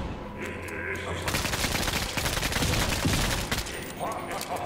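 An AK rifle fires in a video game, rapid dense bursts of automatic fire filling most of the moment, loud and close, with a voice talking faintly beneath.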